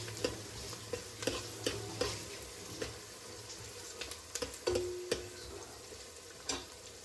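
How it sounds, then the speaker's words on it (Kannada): Sliced onions frying in oil until golden, a quiet steady sizzle punctuated by regular sharp taps and scrapes of a spatula against the pan. "ಆ್ಯಂಡ್ ಇದೂ ಅಷ್ಟೇ ಒಂದು ಸ್ವಲ್ಪ ಗೋಲ್ಡನ್ ಫ್ರೈ ಆಗೋ ತನಕ ಅಲ್ಲಿ ತನಕ ಫ್ರೈ ಮಾಡ್ಕೊತಾ ಇರಬೇಕು."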